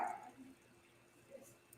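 A single short dog bark at the very start, faint and somewhat distant in a quiet indoor room, followed by near silence with only low background hum.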